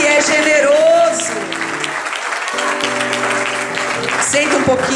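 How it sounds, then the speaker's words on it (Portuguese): Congregation applauding in a church service, steady clapping carried under music and singing voices with sustained tones throughout. "Aplauda o Senhor porque Ele é bom"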